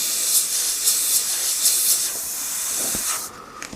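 An airbrush sprays paint in short, close hissing bursts that repeat at an uneven rhythm, then falls quiet at the end apart from a few faint clicks.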